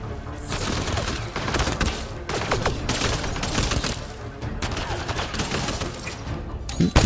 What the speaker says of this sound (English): That sounds suspiciously like a grenade.